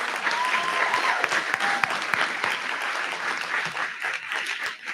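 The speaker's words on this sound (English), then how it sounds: "Let's give everyone one more round of applause." A board of education meeting audience gives award recipients one more sustained round of applause, dense and steady, with a few faint whistles and no talking.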